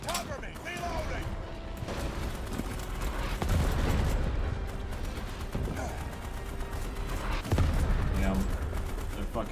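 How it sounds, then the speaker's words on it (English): Gunfire aimed at grenadier bugs in a sci-fi shooter game, continuous rapid bursts and booming blasts in a dense, loud battle din, with a voice talking under the shooting. "I'm gonna try and get up high and see if I can shoot these grenadiers back or not"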